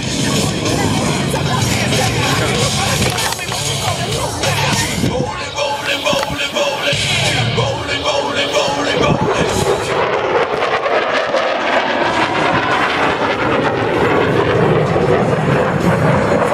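Thunderbirds jet aircraft roaring overhead at an air show, a loud continuous rushing engine roar that swells and shifts throughout, with crowd voices mixed beneath.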